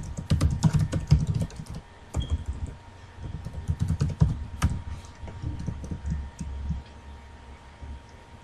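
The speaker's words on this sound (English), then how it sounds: "to type in the chat, press T on your keyboard" Keys clatter on a computer keyboard while playing Minecraft, a fast, irregular run of close clicks that bunch up, pause around the middle and then resume in shorter bursts.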